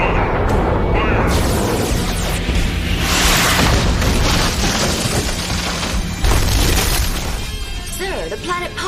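Huge weapons-test blast destroying a planet, a loud sustained roaring rumble with crashing, shattering bursts that swells and slowly fades, heavy and dense from start to end.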